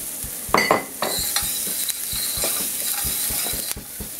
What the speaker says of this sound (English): I'm going to add the garlic, two cloves of garlic,